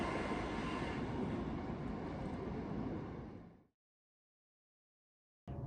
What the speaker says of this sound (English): that train is coming from Heathrow Airport.